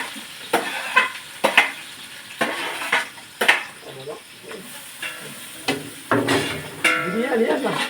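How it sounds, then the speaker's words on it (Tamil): Onions tumble into hot oil with cloves, cardamom and cinnamon in a pan, a soft sizzle under repeated sharp clinks and scrapes of a spoon stirring against the metal, with a brief voice near the end. "வெங்காயத்தை கொட்டவும்."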